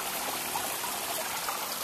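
Water flows continuously through an aquaponic koi pond system in a backyard, a steady close trickling stream with no talking.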